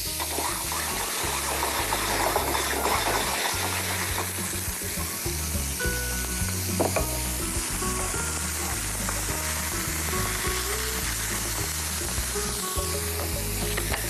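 Swordfish sears in a very hot pan, giving a steady, loud sizzle and crackle that runs throughout with music playing underneath.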